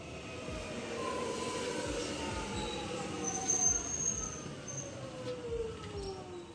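A train on the Alamein line crosses the Riversdale Road level crossing, a steady close rumble of wheels on rail with thin metallic squeals running over it throughout.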